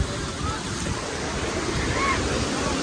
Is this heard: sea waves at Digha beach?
yes